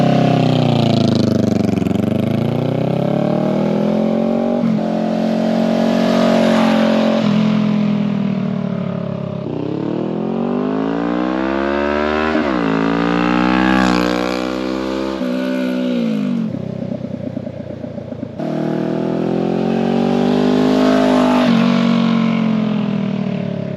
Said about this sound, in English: the last thing with the baffle in, is gonna be a flyby